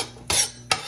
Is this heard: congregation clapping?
no